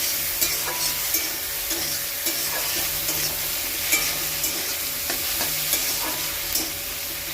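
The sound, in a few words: prawns and tomato being stirred and fried in a pan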